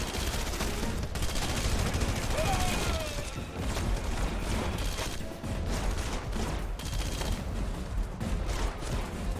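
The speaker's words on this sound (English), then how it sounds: "Please stop shooting me." Dense, rapid gunfire and booming blasts fill a chaotic Red Faction Guerrilla firefight, close and sustained throughout, with a voice speaking over the shooting.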